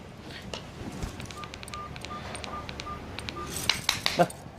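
A run of short electronic telephone keypad beeps while dialing, evenly spaced, sounding one after another at moderate volume, followed by a few brighter clicks near the end.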